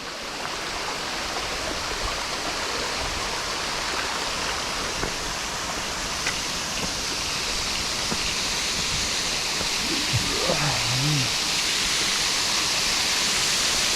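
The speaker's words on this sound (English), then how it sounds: "And the waterfall is actually falling." A waterfall pours in a steady, dense broadband rush that stays constant throughout, with a faint brief tonal sound partway through.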